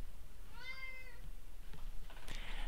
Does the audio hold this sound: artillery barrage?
no